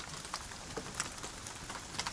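Gentle rain falling in a soft, steady patter, with scattered individual drops ticking on a surface at irregular intervals, quiet and close with no voices.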